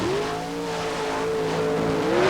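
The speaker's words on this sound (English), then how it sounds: "Big block Chevrolet power plant." A paddle-tire mud racer powered by a big block Chevrolet engine roars past, a steady, loud, rising engine drone with a slight pitch shift as it climbs toward the end.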